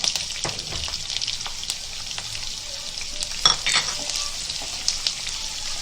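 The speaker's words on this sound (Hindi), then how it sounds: "अभी ये तेल गरम हो गया। अभी इसमें करी पत्ता डालेंगे और मिर्ची डालेंगे, प्याज डालेंगे" Curry leaves, chillies and onion sizzle in hot oil for a Konkani potato fry, a close, steady crackle with a few brighter pops and occasional scrapes of a spoon in the pan.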